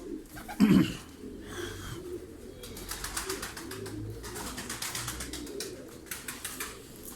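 Fancy pigeons coo softly and repeatedly close by in a loft, with a louder flutter of wings near the start and a rustling, scratchy background.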